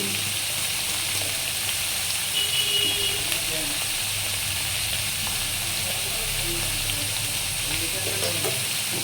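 Spices with papaya curry frying and being stirred in a pan for a vegetarian dish, a steady close sizzle with soft scraping of the stirring, continuous throughout.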